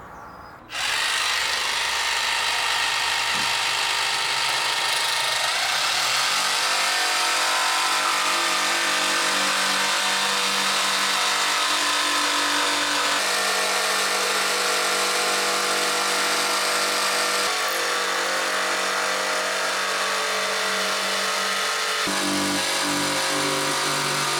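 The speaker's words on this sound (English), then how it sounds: "take that piece of MDF down the garage and get out the old jigsaw" A jigsaw cuts through an MDF board in a garage, a loud continuous buzzing whine that starts after a brief pause and holds steady throughout, shifting pitch slightly as the cut progresses.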